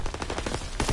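Aircraft strafing gunfire in a WWII video game: a rapid, even stream of close, loud machine-gun bursts roughly six or seven per second, with a heavier burst near the end and no talking.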